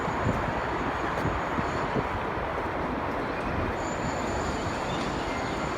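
Continuous loud rumble and rattle of a train running along tracks at about 60 miles an hour in Melbourne, a dense steady roar heard from inside, with no talking.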